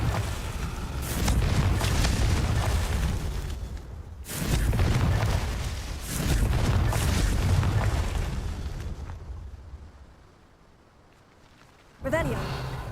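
Fiery Confringo blasts from the Hogwarts Legacy game, a run of loud booming explosions in bursts with brief gaps, fading into a quieter stretch before a sharp new crackling hit near the end.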